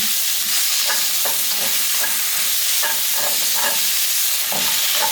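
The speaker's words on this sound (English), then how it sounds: "Then I'm going to go in with all of my chopped scallion." Chopped scallion hits a hot pan for sweet and sour pineapple shrimp, setting off a steady, loud close-up sizzle broken by light, irregular stirring clicks, with no talking.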